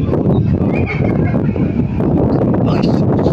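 Strong gusting wind buffets the microphone with a steady low roar, a faint voice and distant sounds barely coming through.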